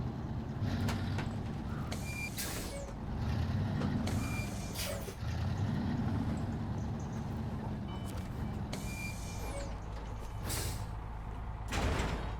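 Heavy truck in the video game SnowRunner braking and manoeuvring, with repeated hissing air-brake bursts and squeaks over a low engine drone, plus occasional high beeps.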